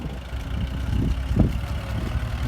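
A tractor engine runs at a pond excavation site where an excavator is working. The rough, low mechanical rumble stays under steady outdoor noise, with a short louder burst midway.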